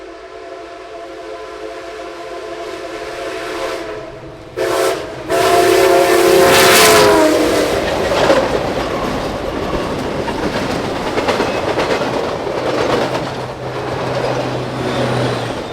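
Canadian Pacific 2816, the Empress steam locomotive, passes at speed near Anacoco, sounding a loud sustained whistle blast over heavy rolling rumble and clattering wheels that fade into a steady roar.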